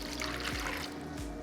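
One cup of water poured into a mixing bowl for veggie pizza dough, a soft, close trickle and splash that runs steadily for a moment without any talk.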